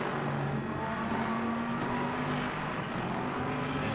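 Hypercar engines roar steadily in the Le Mans Ultimate racing game at Silverstone, a dense, continuous drone of several cars with shifting pitch, loud and sustained throughout.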